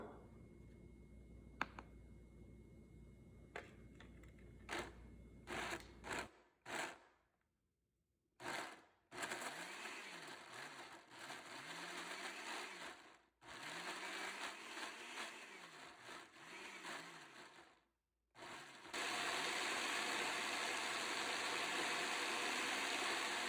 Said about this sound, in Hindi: इन सबको हम अच्छी तरह से ब्लेंड करते हैं।